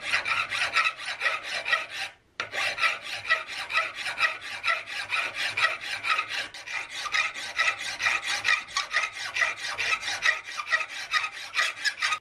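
A hand file rasps across a metal nose cap on an Investarms Gemmer Hawken rifle build, giving a rapid, even series of close scraping strokes with one brief pause near the start.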